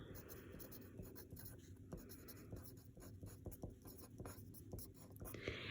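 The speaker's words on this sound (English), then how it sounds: "I'm just going to write that." Pen or marker writing notes on a polynomial graph, quiet scratchy strokes in short bursts with faint whispery sounds and soft speech underneath.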